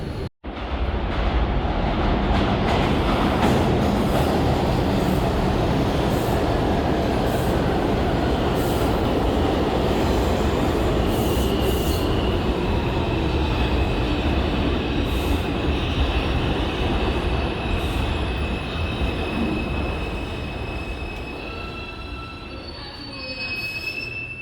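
A New York City subway 5 train bound for New Lots Avenue rumbles along loudly with metal wheels squealing in long, high-pitched screeches, the noise easing slightly toward the end.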